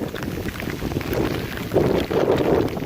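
Monsoon wind gusts across open water near a homestead, buffeting the microphone in a loud rushing blow that swells and surges for a few seconds, with no talk.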